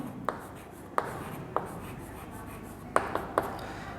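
Chalk or marker writing a pronoun definition on a classroom board, a handful of short tapping strokes spaced irregularly, faint against a quiet room.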